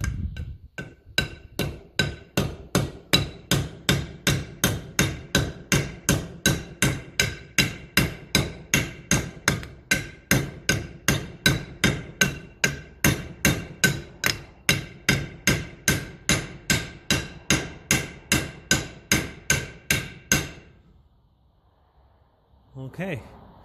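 Rapid, steady hammer blows ring out in a long even series of sharp metallic strikes, close and loud, then stop abruptly near the end, during brake and half-shaft seal work on a Massey Ferguson 35 tractor.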